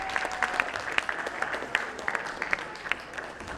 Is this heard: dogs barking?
no